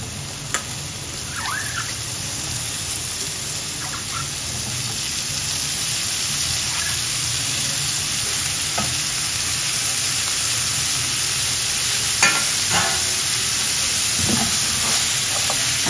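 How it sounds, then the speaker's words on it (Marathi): Spine gourds sautéing in spice masala in a pan, a steady close hiss and sizzle throughout with occasional soft clicks and scrapes of stirring. "आता हे चांगले परतून घ्यायचे आहेत आपल्याला."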